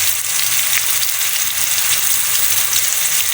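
Ginger garlic paste frying on low heat in a pot for white chana pulao, a steady, close, even sizzle with soft bubbling running throughout, no voices.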